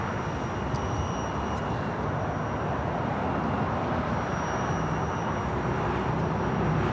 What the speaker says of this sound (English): we have DHL 777 freighter coming in from Nagoya